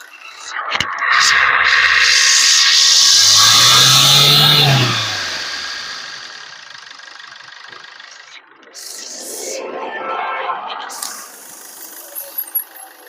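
A 2016–2017 Maruti Swift Dzire VDI diesel car revs up loudly and holds a sustained roar for several seconds before dropping back toward idle, followed by quieter engine running and faint clicks.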